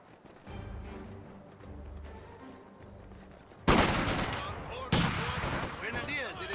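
Machine gun fire in the World War II strategy game Company of Heroes 2: after quieter battle ambience with voices, sudden loud bursts of rapid gunfire erupt, with a second burst following about a second later.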